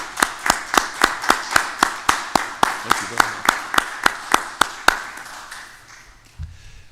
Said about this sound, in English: Would you and your students please stand up for a moment so you can be acknowledged with some great applause?